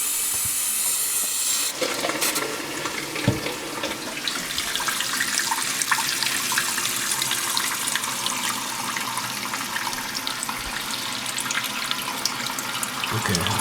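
Water rushes into a toilet tank through a Korky 528MP fill valve at full pressure, a steady loud hiss starting after a brief quiet moment and continuing unbroken.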